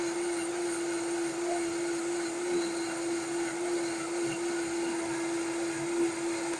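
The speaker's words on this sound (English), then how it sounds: "Turn this on. You want to blend it to a really smooth." A blender whirring steadily as it purées cooked homemade ketchup until smooth, a loud continuous motor whine with a constant pitch that holds for the whole stretch, with no talk over it.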